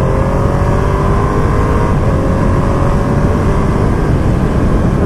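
A 2020 Ducati Panigale V2 engine revs steadily at about 6,000 RPM, giving a loud, continuous, close-up roar with no break throughout.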